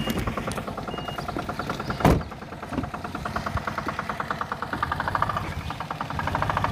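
A small Dacia-style G50 Sport car with a dCi diesel engine idles steadily nearby, a continuous low knocking rumble with one brief louder thump partway through.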